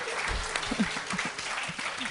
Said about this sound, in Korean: 큰 박수 쳐주세요